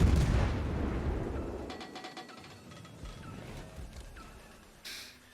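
Naval shell fire in the World of Warships game around an American cruiser: a heavy booming blast up front decaying into rumble, followed by quieter mechanical clicks and a short burst near the end.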